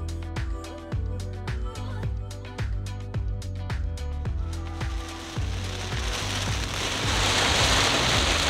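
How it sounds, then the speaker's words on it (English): Rain falls during a thunderstorm on a road trip near White Sands National Park: irregular sharp drops tap over a steady low hum, and a dense, hissing downpour builds toward the end. "we're experiencing a little bit of rain at the moment"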